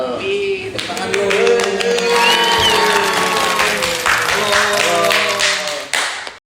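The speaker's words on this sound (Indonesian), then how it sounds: "tepuk tangan dulu" A studio audience claps loudly to welcome guests onto a talk show, a dense burst of applause that holds steady for several seconds before cutting off abruptly, with voices chattering underneath.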